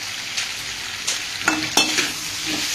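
Cumin and ground coriander sizzling in a hot pan while being stirred for khichuri, a constant bright fry with several sharp scraping strokes of a spoon against the pan, close and without speech.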